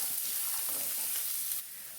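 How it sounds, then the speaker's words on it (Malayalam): Onions sautéing in a pan for rava uppumavu give off a steady, close sizzle that eases slightly near the end, with no talking. "സവാളയും ഒന്ന് വഴന്ന് വന്നിട്ടുണ്ട്."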